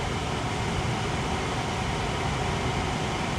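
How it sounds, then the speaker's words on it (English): Cabin fans of a Tesla Model Y Performance run at maximum speed in bioweapon defense mode, giving a steady, loud, even broadband rush of air that holds without a break. "The fans are going to ramp all the way up."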